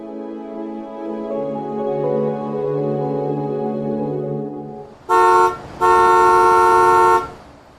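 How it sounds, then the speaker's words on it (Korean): A car horn sounds outside a house, honked by a boy waiting in the front seat: a short blast, then after a brief gap a longer, louder sustained honk, with softer tonal background sound before them. "밖에서 걱정스럽다는 듯 울리는 자동차 경적 소리에 그녀의 생각이 끊겼다."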